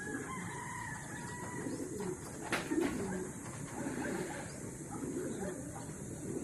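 Soft, low cooing from pigeons, steady and close, with faint background chatter and a brief higher call partway through.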